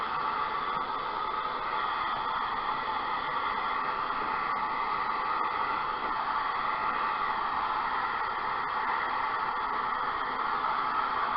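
A heat gun blows on Jenga blocks, a steady airy hiss with a constant mechanical whir, close and unbroken with no talk.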